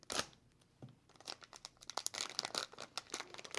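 Crinkling and tearing of packaging as a reproduction Vietnam War C-ration accessory pack is opened, a burst of crackles at the start followed by a dense run of close crinkles and rips, with no talking.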